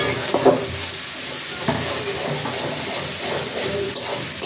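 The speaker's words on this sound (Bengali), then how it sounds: "পেঁয়াজ রসুন ভাজা হচ্ছে।" Onion and garlic frying in a pan for a prawn curry, a constant loud sizzle and hiss broken by a few louder stirring scrapes.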